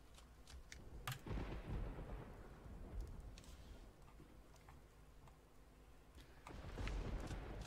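A thunderstorm in the video game Persona 4 Golden rumbles with deep thunder and steady rain, with sharp cracks of lightning at the start and again near the end, fairly loud and with no talking over it.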